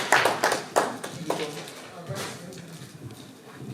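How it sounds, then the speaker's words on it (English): A conference audience gives a short burst of scattered clapping that fades within about two seconds, followed by quiet room sound with faint voices. "A round of applause for her to come forward"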